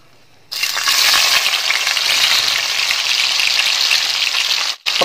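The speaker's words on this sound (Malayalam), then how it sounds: "ഇനി നമുക്ക് സവാള ഫ്രൈ ചെയ്തിട്ട് കേട്ടോ" Sliced onions dropped into hot oil for beef biryani, a sudden loud sizzle that starts sharply and holds as a steady, bright frying hiss, with a brief dip near the end.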